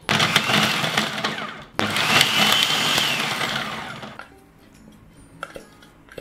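A Philips HR7627 food processor pulses onion in two loud, close whirring bursts, the second longer and rising, then winds down to near quiet with faint clatter.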